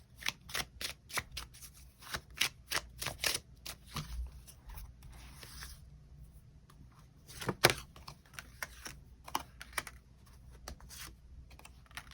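Tarot cards being shuffled and drawn during a reading, a quick run of crisp riffling flicks and taps close to the mic, pausing midway and then resuming in lighter, scattered snaps.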